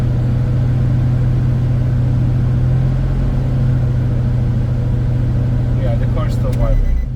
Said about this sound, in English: I'm gonna turn the car on and see if the car still shakes